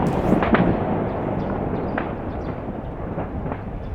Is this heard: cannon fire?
yes